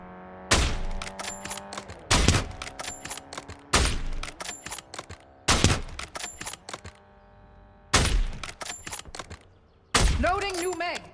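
Gunfire in the video game Warzone: six sharp bursts of rapid shots, each a quick cluster of cracks, spaced about every one and a half to two seconds with near silence between.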